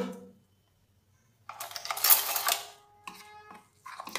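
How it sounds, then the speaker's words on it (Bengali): Gram flour batter with salt, turmeric, cumin and chilli powder stirred in a bowl, giving short bursts of clinking and scraping against the bowl separated by quiet pauses. "এবার বেসনটাকে একটু গুলিয়ে নেব।"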